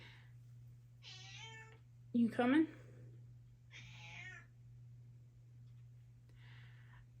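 A house cat meows several times indoors, short, fairly faint calls spread across the moment over a steady low hum, with one louder, sharper cry in the middle and a person speaking briefly.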